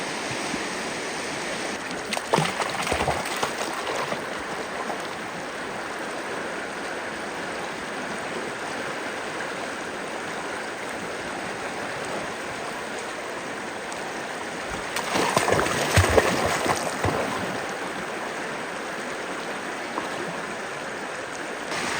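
A cold mountain river flows steadily through a ravine, a broad constant rush of water heard up close, with louder splashing bursts near the start and again about two-thirds through; no talking.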